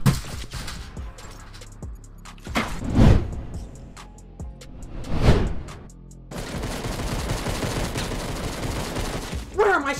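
Gunfire in the video game Fortnite, rapid bursts of shots with a few heavier booming blasts, followed by sustained crackling fire near the end.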